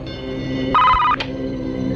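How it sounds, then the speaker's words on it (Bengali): A telephone gives a short electronic ring, loud and close, over a low background hum. "তোর বাপের ফোন আইছে"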